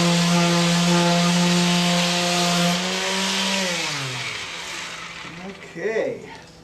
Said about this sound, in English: All these rough little edges we're going to sand down using my little Mighty Mouse Black & Decker sander